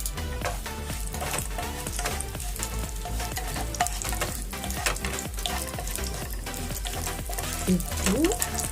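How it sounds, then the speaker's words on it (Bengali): Cumin seeds and dried red chilies frying in hot oil in a home kitchen, a steady sizzle with stirring clatter and a few sharper knocks near the end, moderately quiet and with no speech. "একটু ভালো করে ভাজা হয়ে যায়।"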